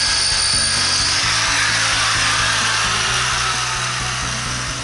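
A power drill grinds loudly and continuously against an ordinary solid brick, failing to bite in, with a steady high whine over a rough rumbling chatter, close and alone.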